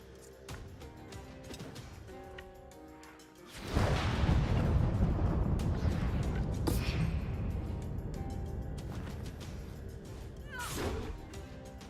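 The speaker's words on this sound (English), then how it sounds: "Bomb." A bomb explodes in the video game Wartales as a sudden heavy boom that swells into a long, rumbling roar and slowly fades, with a smaller whooshing burst near the end.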